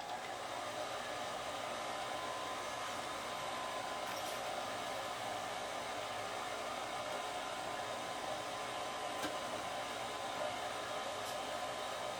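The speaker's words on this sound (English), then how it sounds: "We'll fire it back up again." A home furnace running after being fired back up, giving a steady, unbroken blower roar with a faint hum, close and constant throughout, with no voices.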